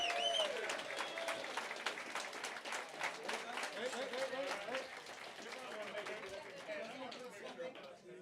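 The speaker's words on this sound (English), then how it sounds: "Everybody give them a big round of applause." Audience applause at a maker lounge talk during the Rocky Mountain RepRap Festival, a steady wash of clapping mixed with crowd chatter and a few raised voices, loud at first and tapering slightly over several seconds.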